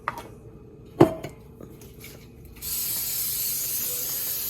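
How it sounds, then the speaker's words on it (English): Cooking spray hissing onto a pancake griddle: a couple of sharp clinks and handling knocks first, then a steady, close spray hiss for the last couple of seconds. "I like to spray my pan"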